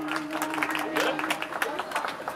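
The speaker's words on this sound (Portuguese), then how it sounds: "Uma salva de palmas, pessoal!" Applause from guests at a mother's birthday party in Cangaíba, east São Paulo, a steady patter of clapping hands with crowd murmur and voices mixed throughout.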